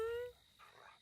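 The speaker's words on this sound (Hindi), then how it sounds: "इधर तो इंसान से ज्यादा कुत्ते हैं।" A dog gives a single short, high-pitched yelp or whine at the start, close by. Quiet murmuring follows afterward.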